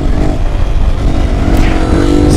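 A motorcycle engine roars loudly and continuously close by, a dense low rumble with a rising tone as it shifts up into fourth gear.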